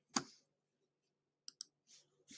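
Computer mouse clicks while editing a post on a website: one crisp click, then a quick double click and a couple of softer taps, isolated and close against near silence.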